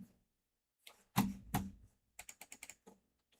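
Typing on an awkward computer keyboard while building a Hackintosh, a few heavy isolated key presses followed by a quick burst of light clicks, close and clear against near silence.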